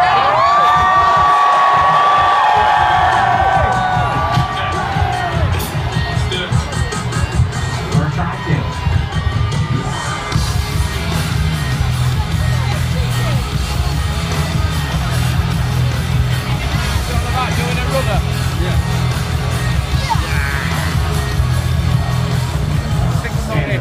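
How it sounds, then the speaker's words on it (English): A large crowd at a Linkin Park show at Download Festival roars, cheers and whoops continuously at a distance, loud and sustained, with scattered shouts and some nearby voices over the top. "I can't wait to hear the crowd just freak out once we start."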